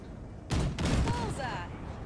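Gunfire blasts at wrecks in Cyberpunk 2077, with two loud, close bursts of shots followed by ringing, whistling tones as the noise trails off.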